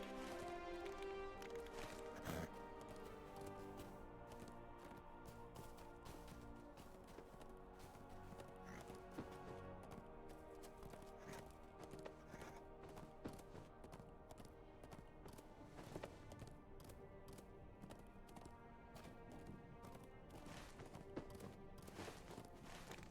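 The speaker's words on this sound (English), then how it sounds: "it's probably quicker if I just use my war steed for this" Hooves of a war steed gallop at a quick, steady clip in a Lord of the Rings video game, faint and quiet beneath a backing music score.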